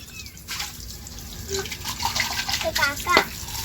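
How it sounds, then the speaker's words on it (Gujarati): Drinking water runs and splashes from a tap near a temple, with people talking over it nearby. "દોસ્તો પીવા માટે પાણીની વ્યવસ્થા છે પણ જોઈ લો"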